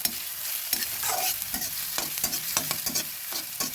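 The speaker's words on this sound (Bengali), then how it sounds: "হালকাভাবে আমি পেঁয়াজ আদা ভেজে নিচ্ছি" Onion and ginger being lightly fried in a pan, with a steady sizzle and repeated scraping and stirring clicks from a spatula, close and continuous, no talking.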